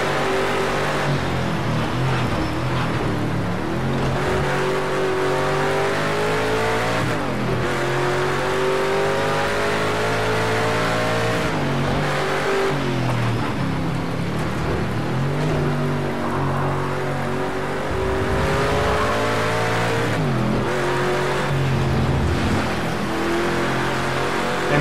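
A Ford Mustang GT4 race car engine in Project Cars 2 drones steadily, revving up and down through gear changes on a lap with brief dips between shifts, loud and continuous with no talk.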